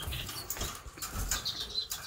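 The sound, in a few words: Japanese birds flapping wings in cage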